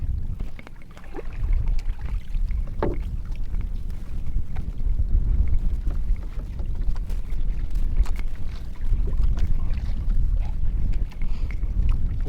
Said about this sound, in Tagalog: Ay, lakas ng hangin talaga. Lumalakas ng hangin.